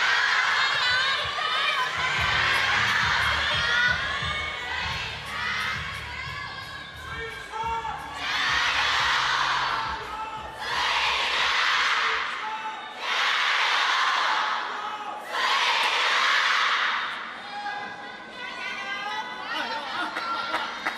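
Thousands of spectators at a women's table tennis quarterfinal in Singapore scream and cheer in unison, swelling in several loud surges over steady crowd chatter, with a few near voices talking early on.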